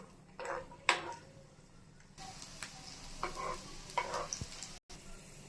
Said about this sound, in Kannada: ಎಣ್ಣೆ ಚೆನ್ನಾಗಿ ಕಾದ್ಮೇಲೆ ಬೆಳ್ಳುಳ್ಳಿನ ಹಾಕ್ಕೊಳ್ಳೋಣ. ಇದು ಚೆನ್ನಾಗಿ ಬ್ರೌನ್ ಆಗೋವರೆಗೂ ಫ್ರೈ ಮಾಡ್ಕೋಬೇಕು.